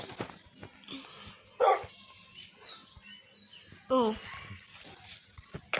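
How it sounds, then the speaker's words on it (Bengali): A dog in the video game Minecraft gives two short barks a couple of seconds apart, among soft game sounds and light background noise, with a voice talking quietly. "আর একটা ডগ বানিয়ে নিই"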